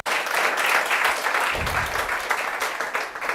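An audience applauds students at a Hindi-speaking gathering celebrating CUET-ICAR 2025 selections, a dense, sustained burst of many hands clapping close by that holds steady, then slowly thins toward the end.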